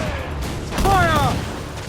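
One deep cannon blast erupts mid-battle aboard a sailing warship in Assassin's Creed 4 Black Flag, rumbling briefly as a crewman shouts over the noise.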